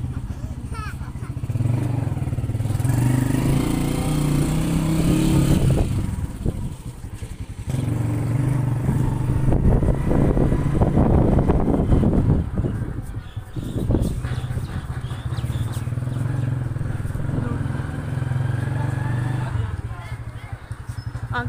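A motorbike ridden through a residential lane gives a continuous low engine drone with brief rises and dips. Someone talks over it throughout.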